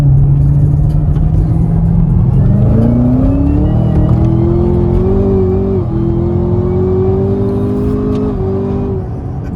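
A Chevrolet Camaro ZL1 drives with a loud, close engine drone heard from inside, rising in pitch through gear changes with brief dips and climbs, continuous throughout.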